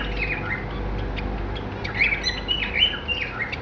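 Zebra finches and white finches, kept as breeder pairs, give scattered high chirps and short squawky calls over a low steady hum, fairly close and with no voices.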